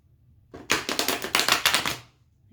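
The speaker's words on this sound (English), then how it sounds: "I shuffle 4 times" Tarot cards being shuffled by hand, a close run of about nine crisp, rapid riffling bursts lasting roughly a second and a half, with no talking.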